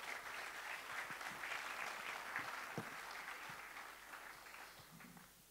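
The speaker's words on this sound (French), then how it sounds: "on vous applaudit bien fort" Applause from a seated audience thanking panel guests at a hot afternoon conference session, a steady dense patter of many hands that holds for several seconds and slowly tapers off at the end.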